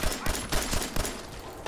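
Rapid gunfire in a Fallout 4 gunfight at the Corvega Assembly Plant, repeated bursts and shots at moderate loudness with a busy game mix behind them.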